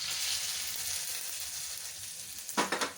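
Dried red chillies and curry leaves sizzle in hot tempering oil for a coconut chutney, giving a steady close frying hiss with a brief louder crackling spurt near the end, and no talking.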